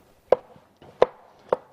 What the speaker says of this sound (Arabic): عم خلص هلا تقطيع